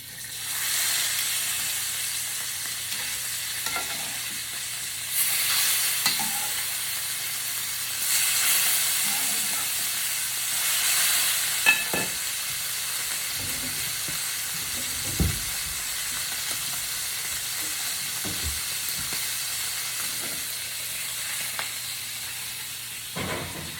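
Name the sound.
food sizzling as it fries in a skillet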